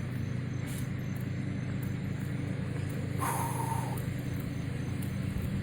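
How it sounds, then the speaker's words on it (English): A steady low engine drone of a tractor running nearby, constant and unbroken, with a brief higher tone partway through. "I apologize for the noise of the tractor."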